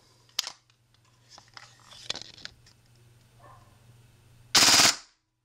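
A KWA KRISS Vector airsoft gun fires one loud, rapid full-auto burst near the end, after a few quiet handling clicks and rustles.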